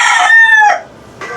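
A gamecock or bullstag, a breeding or fighting rooster, gives a single loud, close crow, then a brief clucking note follows.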